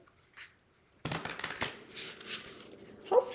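A deck of cards riffle shuffled at close range, a sudden fluttering burst of rapid clicking slaps that continues for about two seconds and ends in a sharp snap.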